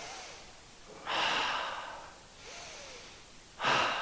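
Deep breathing in an exercise class: two slow, audible breath cycles, each a long airy inhale followed by a softer exhale, close and alone.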